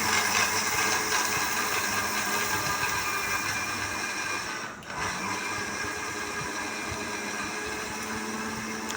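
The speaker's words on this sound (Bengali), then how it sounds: "এবার কিন্তু আমি এই খাবারগুলোকে একটা মিক্সচার মেশিনে পেস্ট করে নেব" An electric mixer grinder whirs continuously as it grinds food into paste. The motor drone stays loud and steady, dipping for a moment midway before resuming.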